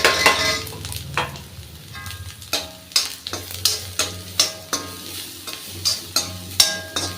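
Vegetables such as carrot being sautéed in a pan for ragi kozhukattai, with repeated stirring scrapes in an irregular rhythm over a steady low sizzle, close and fairly loud, with no talking.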